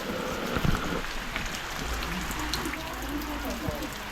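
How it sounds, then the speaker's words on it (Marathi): Rain falls steadily on surfaces in a Konkan village at night, a close, even patter with scattered louder drops, and a brief low thump near the start. "आणि पाऊस पडतोय, हे बघा पूर्ण भिजले आहे मी पावसात."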